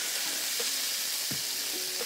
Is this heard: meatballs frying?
yes